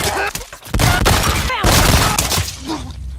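Gunfire in the video game The Last of Us: a dense, loud burst of repeated shots and impacts with booming, crashing noise, continuous across the whole stretch.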